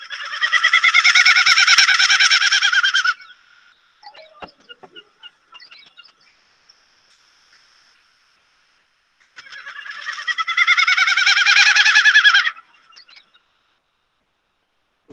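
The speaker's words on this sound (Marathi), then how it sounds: "म्हणजे पंख गातात, पिसं गातात आणि आपला विश्वास बसत नाही असे आवाज करू शकतो." A bird's tail feathers sing in flight, giving two long, bright, buzzing bursts of about three seconds each, separated by a quiet gap with a few faint ticks, loud and close.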